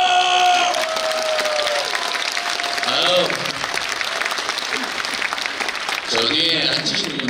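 Audience at a Daegu talk concert claps in sustained bursts, loud and close, with a voice calling out over the applause and a brief lull before another round.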